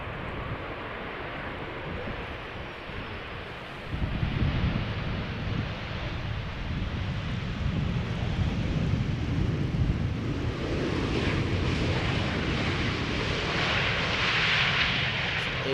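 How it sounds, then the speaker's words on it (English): A KLM Boeing 737-800 arriving from London Heathrow at Schiphol Airport rumbles in as a broad, steady jet roar that swells and holds, mixed with nearby rushing water from a man-made waterfall and wind. "KLM flight 1004 up next, arriving from London Heathrow, 737-800."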